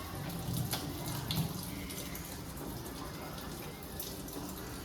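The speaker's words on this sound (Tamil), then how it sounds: "தண்ணி ஊற்றி இதை வச்சுட்டா முடிஞ்சிருச்சு" Water is poured into a pot in a home kitchen in India, a steady splashing trickle that fills the clip at moderate level, with faint background noise and no clear talk.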